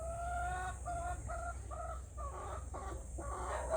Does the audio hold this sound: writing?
no